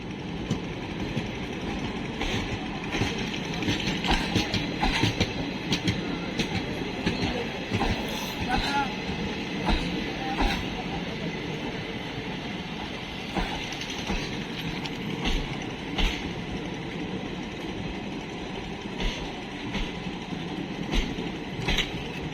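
The Lalgola Passenger train rolls at Murshidabad station during night track work, a low, steady rail rumble with clattering and intermittent sharp clanks, a voice speaking over it.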